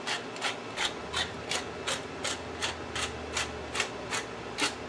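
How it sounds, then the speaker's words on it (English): A nearly empty pepper grinder cranked by hand over a pot of spaghetti sauce, giving about a dozen evenly spaced raspy grinding bursts, close and fairly loud, with no talking. "This pepper grinder is actually pretty low on pepper."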